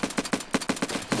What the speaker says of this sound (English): Just heard me shoot.